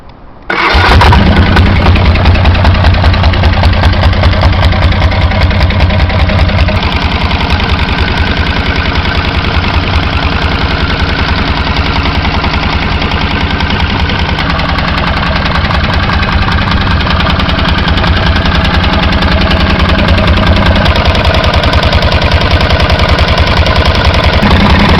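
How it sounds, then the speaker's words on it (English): An 812cc two-cylinder diesel engine with 20 horsepower, fitted in a 1975 Honda CB500T motorcycle frame with a CVT transmission, runs loud and steady close by, a dense knocking chug that holds for the whole stretch after starting up. "an 812 cubic centimeter two-cylinder diesel engine with 20 horsepower"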